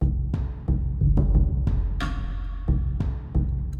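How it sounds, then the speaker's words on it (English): Deep booming taiko drum hits from Dark Cloud 2 video game music strike in an uneven rhythm, each ringing out briefly, loud and alone without voices. "The taiko drums, which if I isolate will just sound like this."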